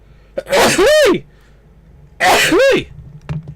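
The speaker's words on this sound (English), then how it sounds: "I got the sneezes." Two loud, close sneezes a second or so apart, each a sharp inhaled buildup ending in a forceful burst, with faint breathing between.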